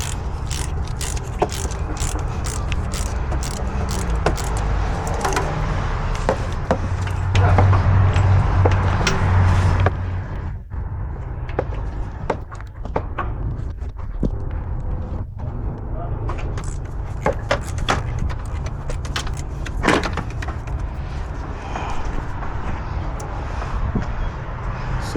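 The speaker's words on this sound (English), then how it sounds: "Using a 14mm socket with an extension, I remove the two mounting bolts, securing the starter to the transmission" Ratchet clicks and metallic scraping as a 14mm socket on an extension loosens the two starter mounting bolts on a 2007–2011 Toyota Camry, with repeated short ratcheting bursts over a steady low background hum.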